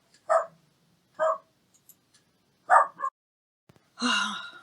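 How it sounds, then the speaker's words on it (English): A dog gives several short, sharp barks close by with gaps between them, followed by a longer, louder bark or yowl at the end. "He barks at everything."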